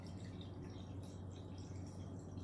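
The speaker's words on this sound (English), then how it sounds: "I just got my water fountain next to me." A small tabletop water fountain trickles steadily and softly nearby, a continuous gentle splashing and dripping with no voices.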